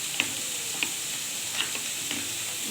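Cauliflower frying in a pan with a spice coating: a steady, fairly quiet sizzling hiss with a few faint ticks and pops scattered through it.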